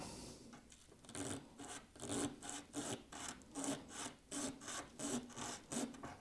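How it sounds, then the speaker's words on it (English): Fresh sandpaper rubbing a guitar nut for a Gibson Studio, a steady back-and-forth rasp of about a dozen even strokes, close and quiet with no talking. "I'm also going to use some fresh sandpaper because where I initially sanded, there's some residue there"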